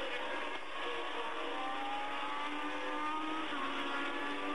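At the 1979 French Grand Prix, Formula One race cars, including Villeneuve's leading Ferrari, scream past at full throttle in a loud, sustained, rising engine howl.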